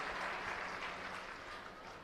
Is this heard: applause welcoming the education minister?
yes